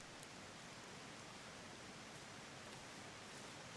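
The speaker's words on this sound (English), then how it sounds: "And now it's pouring rain" Heavy, steady rain pours down in the jungle survival game Green Hell, a dense, even hiss with no breaks, fairly quiet and uninterrupted by talk.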